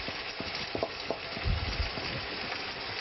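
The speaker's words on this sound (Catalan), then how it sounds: "perquè el bacallà necessita força per fregir-se" Salt cod fries in a pan with tomato, a steady close sizzle with scattered crackles and a couple of soft stirring knocks, no talk.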